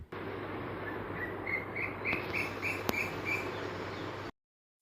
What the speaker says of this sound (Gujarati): તો આ છે એ પક્ષીનો અવાજ